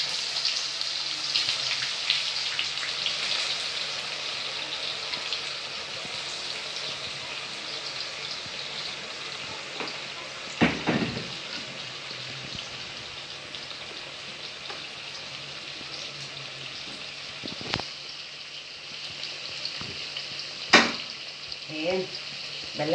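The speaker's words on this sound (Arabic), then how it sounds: "بلشنا نغلى الباذنجان" Eggplant frying in oil for moussaka, a faint, steady hiss running throughout with a few brief knocks and clatters of handling scattered through, fairly quiet.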